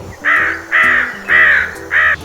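Crows give four loud, harsh caws in an even rhythm, close and clear above a low steady background hum.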